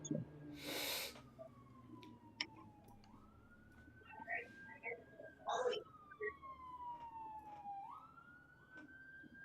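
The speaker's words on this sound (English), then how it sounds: "tell that ambulance over there to shut up" A distant siren wails in long, slowly rising and falling tones, faint behind scattered noises and a brief burst of rustling.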